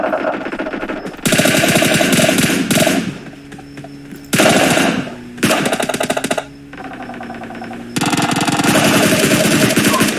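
Loud, close automatic gunfire from a video game, long rattling machine-gun bursts separated by short pauses, with a few quieter gaps between volleys.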